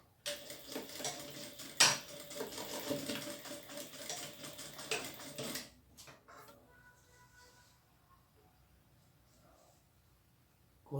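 Stitching a 1 cm seam on fabric for a backpack-style bag gives a dense, loud, rattling clatter for about six seconds, then stops, leaving a quiet room with faint small noises.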